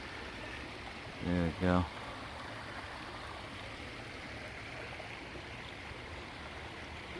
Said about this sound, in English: Little creek with the hills and everything